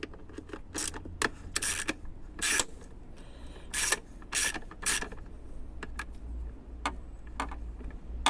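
Socket wrench with an extension ratcheting bolts on the airflow meter of a BMW E60 5 Series, giving close, crisp clicks in short bursts and scattered single ticks with brief gaps between strokes.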